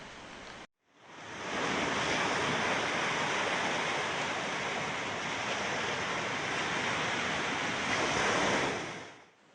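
Waves surge continuously at Pasar Bawah, a small bay beach in Manna on Sumatra's west coast facing the Indian Ocean. The dense roar of surf is close and steady, after a brief cut near the start, with wind rushing across the microphone.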